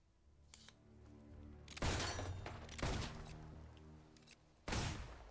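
Gunfire at a shooting range in the video game Fable 3, three sharp bursts of shots spaced a second or more apart, fairly faint over a quiet musical background.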